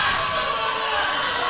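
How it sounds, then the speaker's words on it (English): Crowd at a tennis match cheering and shouting in a steady, loud wash of many voices, sustained throughout without a break. "Look at the crowd."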